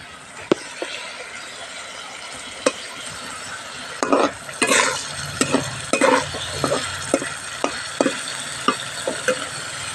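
Chicken leg pieces from a country rooster sizzle in a spiced masala while a spoon stirs them, with steady frying hiss and repeated sharp scrapes and taps against the pan, close up and with no talking.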